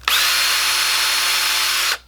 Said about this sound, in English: Drill a 3/32 hole.